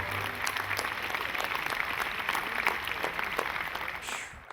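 Audience applause at a Memorial Day remembrance event: steady, moderately distant clapping from a crowd continues throughout and tapers off at the end.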